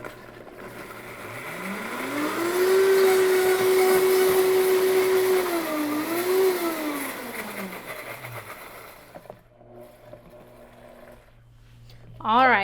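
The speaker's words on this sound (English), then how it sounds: "Now we are ready to blend." A blender runs, blending sunflower seed butter into a sesame sauce for kelp noodles. The motor whines steadily, rises and falls in pitch, then winds down, and a voice is briefly heard at the end.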